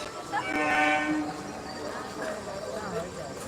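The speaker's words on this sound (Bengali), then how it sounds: "দেখো ট্রেনটা আসছে" A train pulls into a railway station beside a market, its horn sounding loudly near the start and then easing off, with a voice talking nearby.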